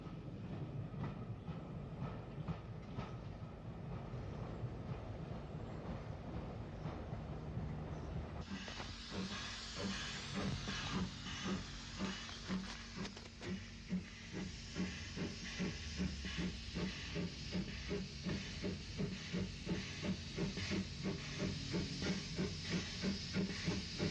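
Isle of Wight steam locomotive No. 21 Sandown pulls away from Smallbrook toward Ryde, first a steady hiss and rumble, then a louder burst of steam and rhythmic chuffing beats that carry on steadily, with no voices.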